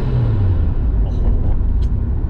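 Interior of a Mitsubishi Lancer Evolution 6.5 Tommi Makinen Edition on the move, a steady low engine and road rumble filling the cabin at constant level, with faint voices underneath.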